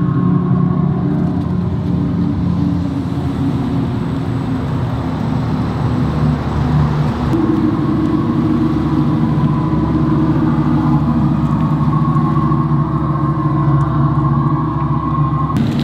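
An Audi e-tron GT electric car drives with a steady, continuous low rumble and road noise; the tone shifts slightly midway and holds close and even throughout, with no voices.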